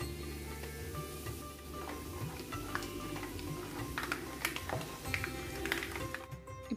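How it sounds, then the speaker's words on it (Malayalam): Half a cup of peanuts fries in hot oil for a spicy Kerala mixture snack, giving a steady close crackle with scattered sharp ticks and pops throughout, no voices. "ഇനി 1/2 കപ്പ് നിലക്കടല ഇട്ടൊന്ന് വറുത്തെടുക്കാം."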